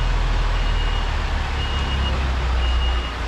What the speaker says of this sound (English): And now I need to do a blind reverse that way.